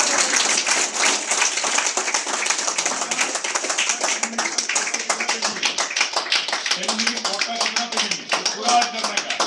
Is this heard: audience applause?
yes